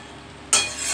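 Potatoes cook with spices over low heat in a pan as they are stirred; a quiet moment breaks into a sudden bright sizzle and scraping stir, close and fairly loud.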